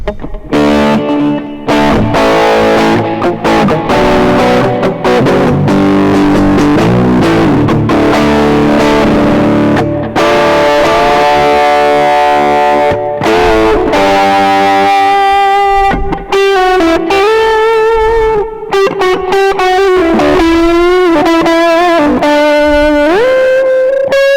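An overdriven electric guitar, bridge and middle P90 pickups combined, plays a sustained passage of chords and bending single notes, loud and steady, with a slightly rounder, thicker tone.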